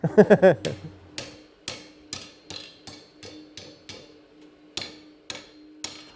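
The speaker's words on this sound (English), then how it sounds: "We still use hammers and anvils and blacksmithing vices and swages" Hammer strikes ring out in a blacksmith's forge workshop with traditional anvils, vices and swages. A quick burst of blows comes first, then a steady run of sharp, clanging metallic hits about every half second, each one ringing briefly.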